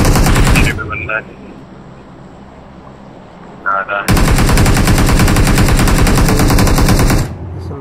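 Automatic gunfire in the battle royale game BGMI, long rapid bursts of loud, dense shots with a quieter pause between them, while a player speaks briefly over the game audio.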